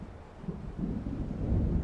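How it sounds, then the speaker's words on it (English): Low thunder from an approaching storm in the video game Alan Wake Remastered rolls in for under two seconds, a dull rumble that swells gradually with no voices. "It seems there's a storm coming."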